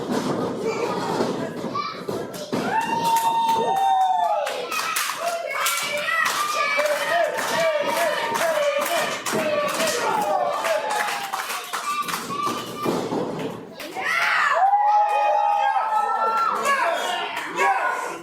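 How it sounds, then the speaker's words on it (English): A wrestling show crowd cheers and claps loudly and continuously, with high excited shouts and a commentator's voice running over the top of the noise. "The crowd getting behind him."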